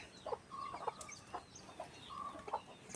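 Several hens clucking in short, irregular bursts at moderate distance, with a faint outdoor background between the calls.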